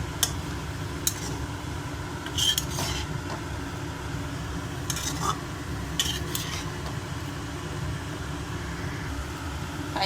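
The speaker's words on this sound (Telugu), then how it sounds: "ఒక 5 మినిట్స్ ఇలా ఫ్రై చేసుకోవాలండి" Paneer and meal maker fry in oil in a pan for biryani, a steady soft sizzle with occasional light scrapes and clinks of stirring.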